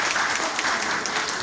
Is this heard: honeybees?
no